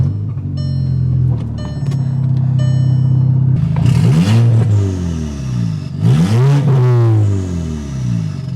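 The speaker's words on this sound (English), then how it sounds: "Wow, the turbo is super loud." Salvage 2012 Golf R MK6 turbo engine running with no exhaust fitted. It idles with a low drone, then gives two loud, close revs that sweep up and fall away with turbo whistle and rasp.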